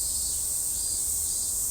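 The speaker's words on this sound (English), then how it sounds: "And you can hear those cicadas going off right now." Cicadas in Shiba Park, Tokyo, buzzing in a dense, steady high-pitched drone that holds at an even, moderate level without pause for a couple of seconds.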